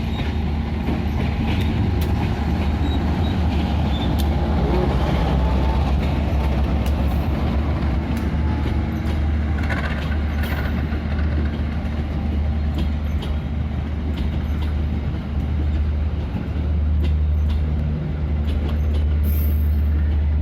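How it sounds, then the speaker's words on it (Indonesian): Heavy, continuous rumble of a train arriving at Wlingi station from the east, with rolling wheel noise, low engine drone and faint squeals, close and loud throughout. "Kereta apinya sudah sampai di stasiun Lingi ya."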